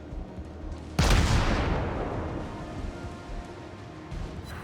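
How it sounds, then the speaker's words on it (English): One heavy boom from a cruiser's forward triple gun turret in World of Warships, loud and close, followed by a long rumbling decay that fades over several seconds. "I can only shoot with my forward triple gun turret"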